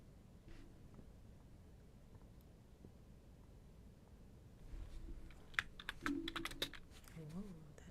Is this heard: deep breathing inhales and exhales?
no